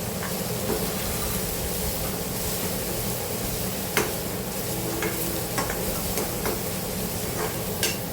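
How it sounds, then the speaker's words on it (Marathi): Ground green chilli, cumin, garlic and ginger paste sautés in oil for pithla, giving a steady close sizzle with scattered clicks of stirring and no talking. "आता आपण हिरवी मिरची जिरं लसूण आलं वाटलेलं आहे ते टाकून घेऊया आणि तेही वेल तेलामध्ये व्यवस्थित परतून घ्यायचं आहे"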